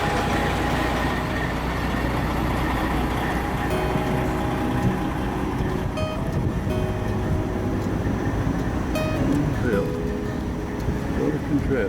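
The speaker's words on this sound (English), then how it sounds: "This tractor was running when I got here this morning. It's still running." A tractor engine idles steadily on a construction site, a constant low rumble with a faint tonal hum running throughout, close and unbroken.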